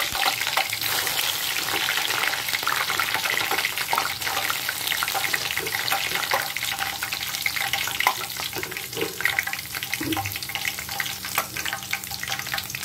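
Sesame oil sizzling and crackling steadily in a pan with flowers, a continuous frying hiss near and fairly loud, alone without talk.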